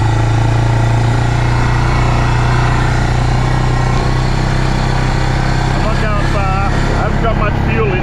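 Quad bike engine idling close by, a steady low rumble that holds throughout, with a person talking over it near the end.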